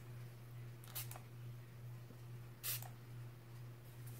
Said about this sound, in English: going to spray this with the MAC Fix Plus